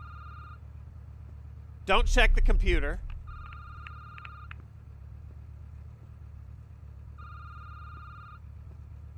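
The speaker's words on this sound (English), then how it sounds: "Don't answer the phone." A telephone rings in repeated electronic bursts over a steady engine-like hum in a security booth, with a short spoken phrase between rings.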